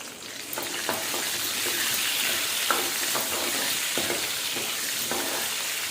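Green chillies sauté in a hot pan, a steady close sizzle with occasional scraping stirs and taps of a utensil, no voices.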